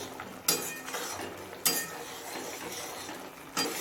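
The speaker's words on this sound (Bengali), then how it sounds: "জল দিয়ে সব কিছু নাড়াচাড়া করে মিশিয়ে নিলাম" A utensil stirs and mixes food with water in a pan, giving soft scraping with three sharp metallic clinks spaced a second or two apart, close and without speech.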